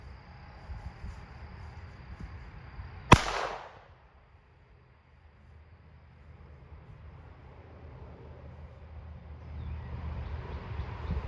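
A single loud .410 shotgun pistol shot fired by hand outdoors, a sharp close blast that dies away over a second or so, with quiet ambient noise before and after.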